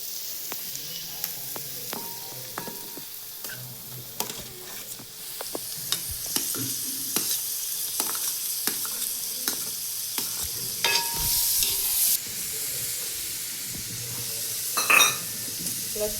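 Tomatoes fry with browned onion in a pan, giving a continuous close sizzle with repeated stirring scrapes and light clinks of a spoon against the pan. A louder hiss swells near the end, and no one speaks.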